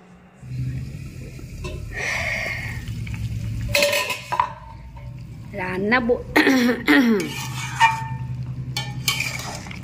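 Eggplant and hilsa fish curry cooking in a pan on a stove, a low steady sizzle with occasional clinks of pots, heard close under a voice talking throughout.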